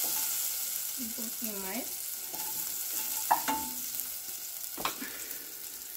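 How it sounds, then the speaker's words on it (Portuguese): Garlic and salt frying in hot oil in a pan, with a soft sizzle and a few stirring scrapes and clinks, while someone speaks briefly over it. "já esquentou aqui um pouco, então eu vou colocar alho e sal"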